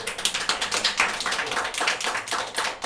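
A small church congregation claps for the preacher after a Sunday sermon, a steady patter of hand claps from a modest group, fairly close, with no talking over it.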